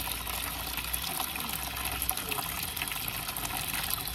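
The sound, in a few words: water trickling slowly for bathing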